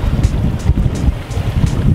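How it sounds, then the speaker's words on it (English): Strong south wind buffets a fishing boat cruising perpendicular to it, a loud, steady low rumble and gusty roar pressing on the microphone with no talk. "the wind's pounding me from this direction. Straight south wind today."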